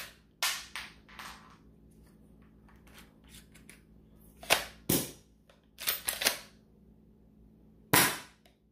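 An XYL M870 shell-ejecting toy shotgun blaster fires micro darts in sharp, close snapping cracks, several spaced shots with pump-action clacks in between, over a quiet background.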